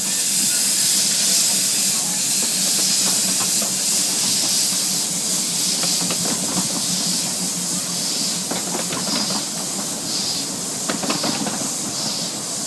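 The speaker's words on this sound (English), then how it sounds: "Well, that's the first train of the day off, Mrs. H." A steam locomotive on the Kirklees Light Railway in Yorkshire departs with loud, continuous hissing steam, joined by faint rhythmic chuffs and rail clanks as it pulls away.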